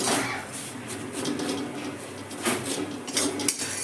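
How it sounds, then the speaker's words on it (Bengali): Vermicelli (semai) frying in oil in a pan while being stirred, giving a continuous sizzling hiss with repeated metallic scrapes and clinks of the utensil against the pan, close and clear. "দেখুন, সিমুইটা আমি খুব ভালো করে ভেজে নেব।"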